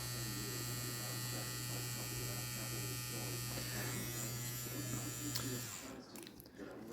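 A WOS E50 wireless direct-drive tattoo pen machine buzzes steadily at a 5 mm stroke, a close, even electric whir that stops near the end.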